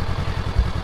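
A Honda NX500 twin-cylinder motorcycle engine runs with a quick, even low putter of close, steady exhaust pulses over a brief stretch.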